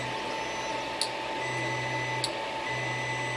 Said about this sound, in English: I have auto bed leveling on this particular printer